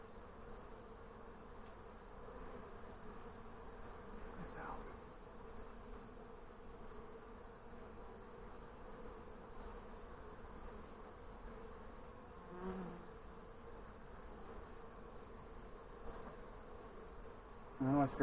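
A steady, continuous hum of many honey bees buzzing around a newly installed nuc hive in Northern Michigan, dense and close, with no talk over it for the whole stretch.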